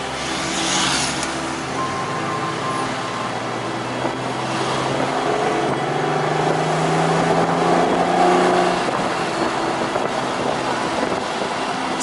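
An old car's engine revs and drones under road and wind noise, with the pitch rising and falling through a continuous, moderately loud run.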